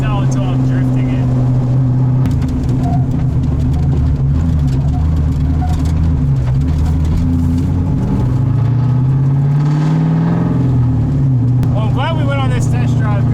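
A car engine drones steadily with shifting pitch as it accelerates and slows, a person talking over the low rumble throughout.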